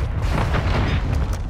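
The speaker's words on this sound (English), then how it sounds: "I dropped a mortar." Mortar strike explosion in Call of Duty Warzone on Ashika Island, a dense low booming rumble that holds loud and steady across the moment, with scattered crackling bursts on top and no talking.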